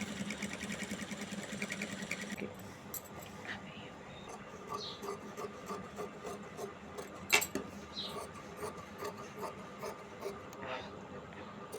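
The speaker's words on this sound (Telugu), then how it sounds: "ఇప్పుడు మనం సింగిల్ టెన్షన్తో ఇలా కుట్టేసుకోవాలి" A sewing machine stitches the lining of a maggam-work blouse, its fast mechanical whirr steady and close for the first two seconds, then giving way to quieter intermittent clicks and handling of cloth.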